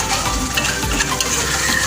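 Meat simmering in released oil in a pan while being stirred, a steady close sizzle with soft scraping strokes of the spoon, no voices.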